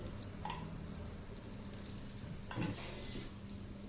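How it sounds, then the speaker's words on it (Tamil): Oil is drizzled over an appam cooking in its pan, giving a faint, steady sizzle with a couple of brief louder spits and light utensil clinks. "மேலாப்பில் எண்ணெய் விட்டுக்கலாங்க கொஞ்சம்"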